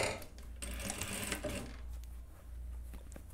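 A sewing machine stitches fabric and elastic in a close, rapid mechanical whir with a fast needle rhythm, running steadily through the whole short stretch with slight changes in speed.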